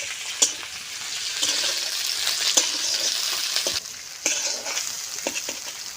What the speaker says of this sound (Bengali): দিয়ে দেবো পেস্ট আমি সুন্দর করে লালচে লালচে করে ভেজে দেবো